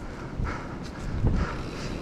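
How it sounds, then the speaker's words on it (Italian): Wind buffets the microphone of a mountain biker riding a Canyon bike on a rough trail, producing low rumbling gusts that swell and fade, with rattles and crunching from the ride mixed in. "Si è alzato un po' il vento, eh."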